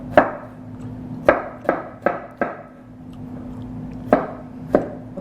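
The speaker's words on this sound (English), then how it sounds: "Then you rough chop. Go down, 1 more slice, and cut." A knife rough-chops an onion on a cutting board in seven sharp, close, separate strikes at an uneven pace, with a faint steady hum behind them.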